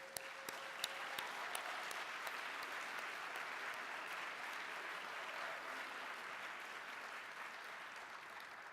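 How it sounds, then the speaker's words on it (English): An audience at a benefit event applauds in a sustained, dense wash of clapping with a few sharper individual claps near the start, steady and even throughout. "Please give another round of applause for our fantastic Master of Ceremonies, Adaora Udoji"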